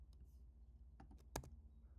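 A handful of quiet computer keyboard key presses, scattered clicks over a faint background hum, close and soft.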